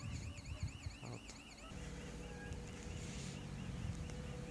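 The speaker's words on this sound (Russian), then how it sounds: "И работает сигнализация." A warbling electronic level crossing alarm of the Bagrin type, malfunctioning, rings in a repeating wavering pattern, then cuts out, leaving steady outdoor rumble and a faint tone.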